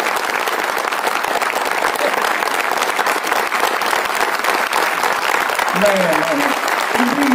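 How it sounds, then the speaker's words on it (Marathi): Loud, sustained audience applause filling the hall, dense continuous clapping from a large crowd with a voice speaking over it near the end. "आणि म्हणून या सगळ्यांच्यासाठी तुम्ही जरा एकदा टाळ्या वाजवा तशी विनंती करतो."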